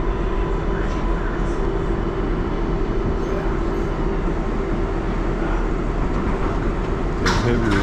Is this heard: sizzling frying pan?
no